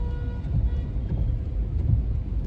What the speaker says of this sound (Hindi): बारिश तो बहुत हो रही है।